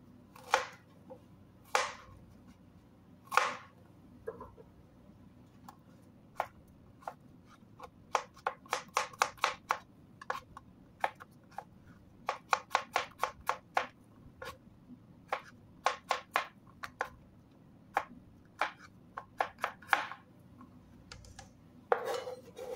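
A knife chops small pieces of zucchini on a cutting board, sharp close taps arriving in uneven bursts, sometimes quick runs of cuts and sometimes single strokes, with no one talking.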